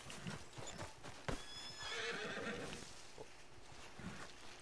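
Horse neighing in the Red Dead Redemption 2 video game: a loud whinny after a sharp impact, over hoof clip-clops and game ambience, with no talk.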